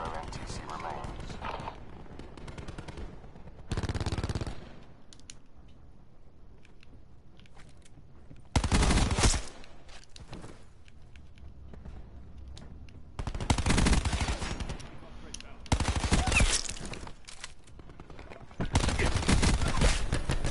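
Micro SMG fire in the Black Ops 4 Quarantine mode comes in sharp, loud full-auto bursts with quiet gaps between them, several rapid strings of shots spread across the stretch.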